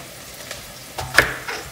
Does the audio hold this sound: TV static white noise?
no